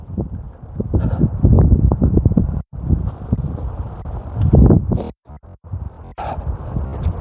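Strong wind buffeting a microphone on a golf course, loud low-pitched rumbling gusts that surge and drop irregularly, with a few brief near-silent gaps between blasts.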